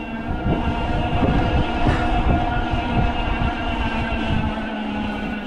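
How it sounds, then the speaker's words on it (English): An electric bike motor climbing a hill whines steadily up close with rhythmic clicking and rumbling underneath, continuous and fairly loud throughout. "the motor, again, you can hear it"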